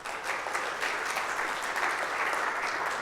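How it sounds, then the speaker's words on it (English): Steady applause from a conference audience, dense and even clapping that carries on without a break for a few seconds, with no talking. "please can we have a huge round of applause for Santosh?"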